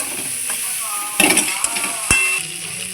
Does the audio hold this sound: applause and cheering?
no